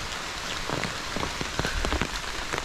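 Heavy rain falls steadily on a flooded mountain trail during a large rainstorm, making a dense, continuous hiss with scattered close drops pattering on nearby surfaces.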